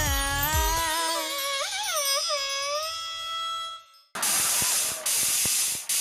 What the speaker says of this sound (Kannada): ಏನೇ ಅದು ಅಡ್ಗೆ ಮನೆ ಸೌಂಡು? 10 ಕುಕ್ಕರ್ ಅನ್ನಕ್ಕೆ ಇಟ್ಟಿದ್ದೀನ್ರಿ.